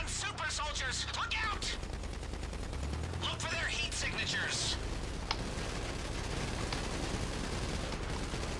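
Automatic gunfire rattles in rapid bursts while enemies are shot in a video game, loud and close, with sharp repeated cracks over a steady low rumble.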